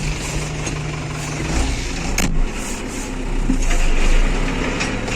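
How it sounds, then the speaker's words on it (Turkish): A New Holland TD90 tractor pulling a heavy roller over vetch drones with a steady, close engine note that swells as it moves off under load, with a sharp click partway through. "silindirin ağır olduğu arkadaşlar şeyden belli oluyor traktörün kalkışından"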